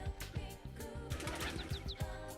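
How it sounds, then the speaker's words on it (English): Birds in the video game Persona 4 Golden coo like pigeons in a rhythmic, repeating pattern, with a few brief chirps, clear and close over a faint background bed. "Oh, the birds also have sounds."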